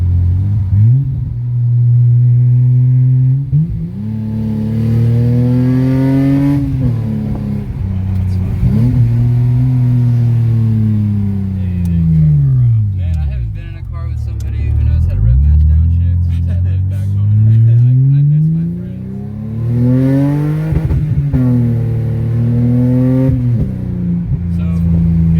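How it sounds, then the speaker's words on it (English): A BMW car engine revs hard on a test drive, repeatedly climbing to the rev limiter and dropping back in loud, rising and falling sweeps, close-up, with a voice talking over parts of it. "I just immediately was hitting the rev limiter"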